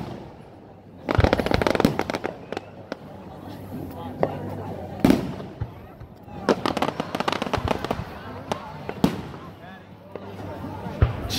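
Fourth of July fireworks in Walpole, Massachusetts pop and crackle in rapid volleys with occasional louder booms, heard at a middle distance while someone talks over them.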